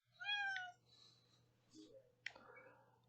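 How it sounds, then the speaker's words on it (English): A house cat lets out one clear, rising meow up close, followed by quieter chirps, small mouth sounds and a soft click in an otherwise quiet room. "my cat thinks I'm talking to him"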